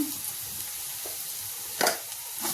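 Spoon stirring chili powder into cooked tomato rice in a pan, with soft scraping strokes and faint sizzling, including a couple of brief louder scrapes.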